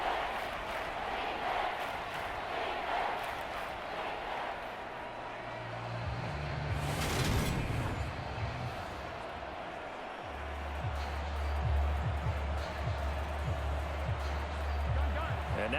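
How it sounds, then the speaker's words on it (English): A stadium crowd roars in Madden NFL 23 during a simulated Cincinnati Bengals vs New Orleans Saints game, a broad, steady wash of cheering that swells midway with a few thuds. A commentator talks over it. "this crowd's going to get even louder"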